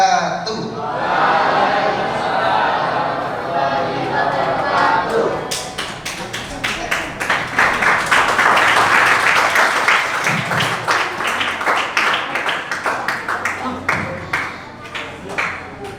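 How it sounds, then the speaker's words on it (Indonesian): After a children's talk at a mosque during a Nuzulul Quran event, an audience claps in a loud burst of many hands that stays strong and then thins out into scattered claps, with speech over it at the start. "kita beri tepuk tangan lagi untuk Kak Pandu."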